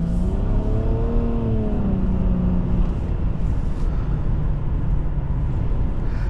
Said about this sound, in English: by the time you floor it, it's gonna have time to rev up, give that turbo a little bit of boost, and you're gone